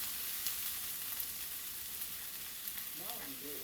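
Onions, jalapeños and red, orange and yellow peppers sizzle steadily on a 36-inch Blackstone griddle top, a close, even hiss of frying with faint stirring scrapes near the end.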